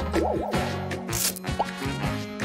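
Adhesive tape is pulled and torn in quick, crackly bursts, with rustling handling noises and a few short squeaky strips close by.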